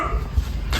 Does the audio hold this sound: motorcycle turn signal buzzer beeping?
no